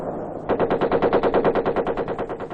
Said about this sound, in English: Nothing like real bullets flying overhead to teach a man to keep his head down.